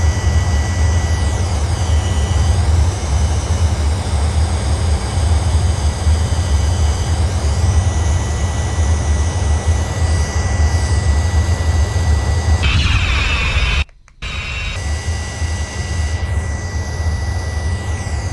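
Avro Vulcan jet bomber engines in a flight simulator game roar in a loud, steady drone with a rising whine on top, broken by one short silent gap near the end before the roar resumes.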